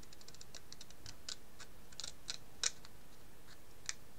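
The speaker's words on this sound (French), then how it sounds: "je coupe là où j'ai fait le pli" Scissors snip through paper along a fold while crafting a scrapbook album page, a series of faint, crisp clicks, quick at first and then more spaced, in a quiet room.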